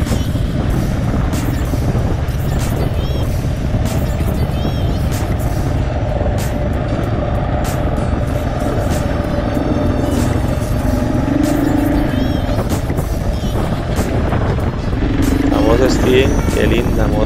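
Honda Dominator motorcycle with luggage boxes passing on a rural road near Puerto Jiménez on the Osa Peninsula, heard as a loud, steady engine roar mixed with wind and road noise from the rider's own bike, with voices talking over it.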